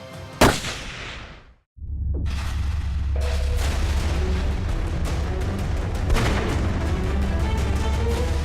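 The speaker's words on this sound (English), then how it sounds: "I think I'll shoot him." A single loud rifle shot fired at a whitetail buck during a hunt in the Nebraska Sand Hills, a sharp crack with a brief echo, then a steady low rumble of wind or ambient noise, no talking.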